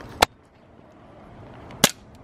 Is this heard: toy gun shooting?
yes